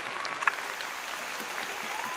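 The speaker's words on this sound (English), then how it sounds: "with a round of applause" Applause from a podcast audience closing out a finance show episode, a steady, fairly quiet wash of many hands clapping that holds evenly throughout with no voices on top.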